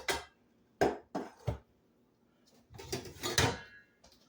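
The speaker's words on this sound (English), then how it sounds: "So I'm going to get Dee a pan here while I'm recording." Rummaging in a kitchen for a pan: a series of sharp knocks and clunks, a drawer or cupboard banging, then a louder rattling clatter of cookware, close by with no talk.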